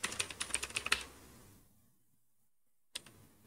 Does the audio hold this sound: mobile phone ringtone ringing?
no